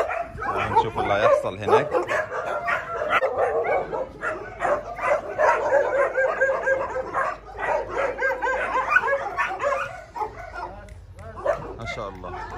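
Young dogs in the junior section of a dog shelter in Egypt, many yips, whimpers and barks overlapping continuously nearby, with someone talking over the noise.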